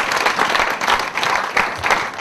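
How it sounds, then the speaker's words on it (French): A church congregation applauds and cheers for the word of God during a French-language service, with steady, close clapping from many hands swelling in waves. "Est-ce qu'on peut acclamer pour la parole de Dieu?"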